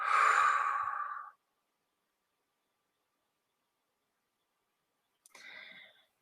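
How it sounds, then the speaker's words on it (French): A deep breath drawn in through the nose and released fully through the mouth during a guided relaxation session: a long, close, breathy exhale, then several seconds of silence before a short intake of breath. "Vous pouvez prendre une profonde inspiration par le nez et expirer complètement par la bouche."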